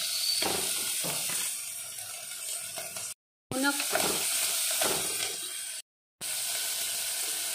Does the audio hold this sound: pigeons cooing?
no